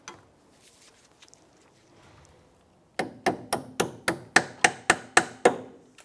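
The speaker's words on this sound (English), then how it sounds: "I'm gonna tap that on with a hammer." Hammer tapping a brake caliper clip into place on a 2005-2007 Ford Five Hundred rear brake, about ten sharp metallic taps in a quick even rhythm, close and loud after a few seconds of quiet rustling.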